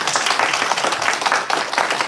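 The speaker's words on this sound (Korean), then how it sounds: "박수 한번 하겠습니다" A church congregation breaks into a short burst of loud, dense applause during a Sunday worship service, steady clapping throughout with no talk over it.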